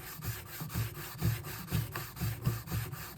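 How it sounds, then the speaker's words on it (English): A chisel is pushed back and forth across a fine sharpening stone in a steady rhythm of soft, gritty rubbing strokes, about seven passes, close and quiet. "this should be done on a fine stone, because this is like the final honing on a chisel."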